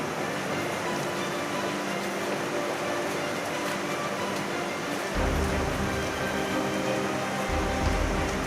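Steady, dense rain pours during a severe thunderstorm in Guilford County, a loud broadband hiss throughout that thickens with heavier low rumble and wind buffeting in the last few seconds.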